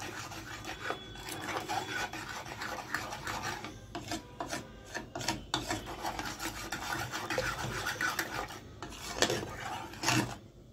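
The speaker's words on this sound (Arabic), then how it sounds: "هنقلب بقى كويس الدقيق مع النشا مع السكر مع الفانيليا مع الحليب" A spoon stirs flour, starch, sugar, vanilla and milk together in a bowl, giving a steady rasping scrape with repeated rubbing strokes and occasional clinks, close and fairly quiet, with no talking.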